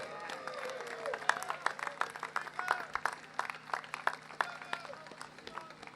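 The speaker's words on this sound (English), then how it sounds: "Give them a round of applause" Applause from a crowd at a 73rd Precinct National Night Out community event, clapping steady but moderate with scattered sharp claps and voices over it.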